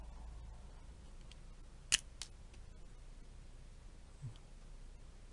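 Two quick, faint snips of scissors cutting, close by, over a quiet hissy room with a softer click later.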